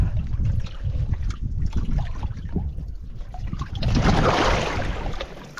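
Water trickling and splashing out of a tipped, partly flooded skin-on-frame St. Lawrence River skiff, irregular dribbling and sloshing close by that swells into a louder gush near the end.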